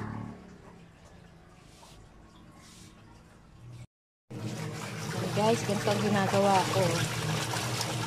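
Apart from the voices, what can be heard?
hand-washing laundry in water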